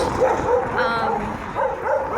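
Dogs on a street in Durrës, Albania, give a few close yips and whining barks in quick succession, with brief pauses between them over a busy background.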